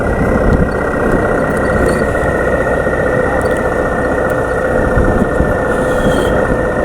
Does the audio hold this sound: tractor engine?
yes